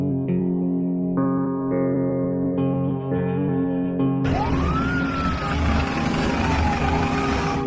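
A siren wails with a rising and falling sweep over dense traffic-like noise, after a run of stepped, horn-like tones that climb in pitch. It is loud and continuous.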